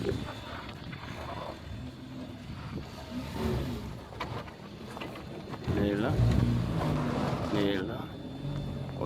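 A Jeep Renegade engine revs and strains while crawling over steep off-road terrain, rising in bursts toward the end, mostly under loud voices talking and calling out nearby.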